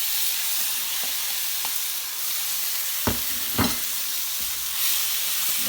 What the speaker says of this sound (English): Now we're going to add the meat back into the same pan.